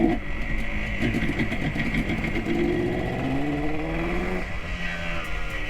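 A 1976 Yamaha RD400 two-stroke motorcycle runs close by, its engine buzzing and crackling steadily, with the pitch rising and falling a little as the throttle shifts.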